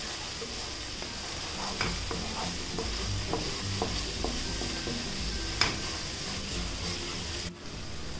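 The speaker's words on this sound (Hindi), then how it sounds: "2 मिनट के बाद ढक्कन को खोल दें और सब कुछ एक बार अच्छी तरह से मिला लें" Masala stirred in a pan while it fries, for an Indian vegetarian thali curry: a steady oil sizzle under repeated scraping strokes of a spoon, close and moderately loud, with no talking.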